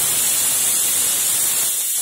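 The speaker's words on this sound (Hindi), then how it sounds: "सेकंड सीटी आ गई है" A pressure cooker on a gas stove lets out its second whistle while cooking arhar dal, a steady, loud, broad hiss of escaping steam that holds for two seconds and thins slightly at the end.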